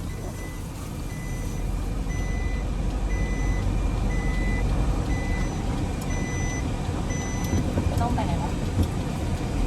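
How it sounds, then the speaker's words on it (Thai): Steady electronic reversing beeps repeat at an even pulse as a vehicle backs up among trees being cleared, over loud continuous engine rumble and drone, with people talking nearby. "ถอยรถครับถอยรถ"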